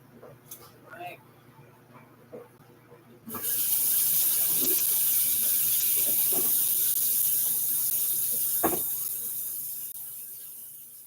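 Beef short ribs rinsed under a kitchen tap: after some quiet handling noises, a loud, steady rush of running water starts and continues to the end, with a few splashes as the meat is moved.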